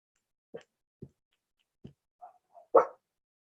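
A puppy gives a handful of short, sharp barks spaced out over a few seconds, ending in a louder yelp, close by in an otherwise silent room.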